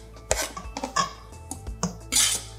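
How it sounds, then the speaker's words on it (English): A meat chopping board is cleared away in a kitchen while making pasta salad, producing close clattering knocks and clinks of board, crockery and utensils in short irregular bursts, ending in a louder scraping rattle. "And we get rid of our meat chopping board."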